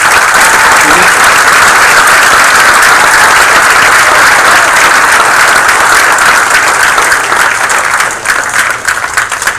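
Loud, sustained audience applause fills a township council meeting in Gloucester Township, dense and steady throughout before thinning slightly toward the end.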